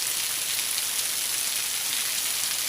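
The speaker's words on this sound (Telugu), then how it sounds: "ఆ రేకుల మీద చూడండి ఎంతలా వాన పడుతుందో రేకుల మీద" Heavy rain drumming on metal roof sheets, a dense continuous hiss of impacts, steady and fairly loud with no other sounds.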